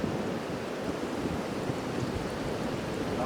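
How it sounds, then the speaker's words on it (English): Wind rushes steadily through trees beside a garden raised bed, a constant loud broadband roar with slight gusting, buffeting the microphone and with no talk. "Listen to that wind in the trees."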